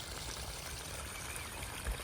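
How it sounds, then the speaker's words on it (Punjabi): Rainwater overflow running and pouring into a field, a quiet continuous gush of flowing water, steady and unbroken from start to finish. "ਓਵਰ ਪਾਣੀ ਸਾਰਾ ਚੱਲ ਰਿਹਾ"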